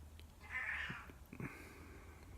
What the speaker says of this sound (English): my one cat decided she wanted to make a cameo